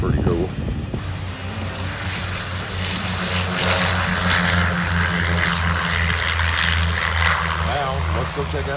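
A propeller airplane takes off on a windy airfield. Its engine holds a loud, steady droning roar with strong low harmonics for several seconds, backed by wind noise.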